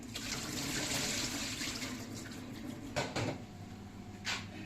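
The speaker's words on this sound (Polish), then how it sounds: "Pamiętaj, że grzybki rosną w lesie, więc naprawdę po ususzeniu trzeba je dobrze, dobrze umyć." Dried forest mushrooms being washed under running tap water, a steady close rush of flowing water with a few brief splashes and knocks near the end.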